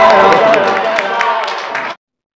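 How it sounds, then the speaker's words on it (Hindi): An audience at a Hindi-Urdu kavi sammelan poetry gathering breaks into brief, dense, loud clapping mixed with crowd noise, which cuts off abruptly after about two seconds. "जरा ताली बजा दो"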